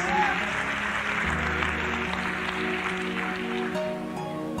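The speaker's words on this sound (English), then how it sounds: "Clap your hand if you understand what I'm talking about" Church congregation at a Bible study teaching claps along under a sustained organ or keyboard chord, moderate and continuous, with the crowd sound blending into the music.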